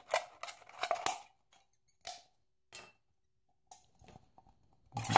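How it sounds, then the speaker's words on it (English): Scissors snip through an empty aluminum soda can, a quick cluster of sharp crunchy cuts followed by a few isolated snips, close and fairly loud with quiet gaps between. "take an empty soda and we need to cut it"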